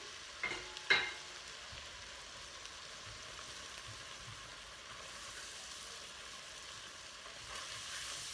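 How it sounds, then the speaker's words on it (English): Flour is stirred into cooking onions in a pot for broccoli cheddar soup: two quick utensil clacks, then a soft, continuous low sizzle. "And I'm going to mix that in with my onions."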